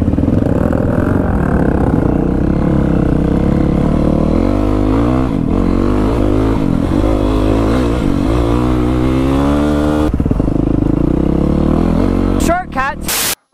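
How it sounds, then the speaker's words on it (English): A motorbike engine running out in the country, a loud close idle that rises and falls as it revs, with rough clattering and voices talking over it. "you got your bike running yet?"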